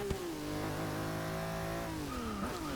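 A racing car engine in Forza Motorsport 6 holds a steady high whine, dropping in pitch near the end before briefly rising again, continuous and fairly loud.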